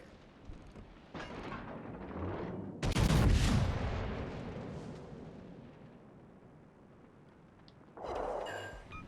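Heavy naval gunfire from the British battleship Rodney in a naval combat video game: a loud booming salvo with long rumbling decay, set among quieter battle rumble and a later, smaller burst.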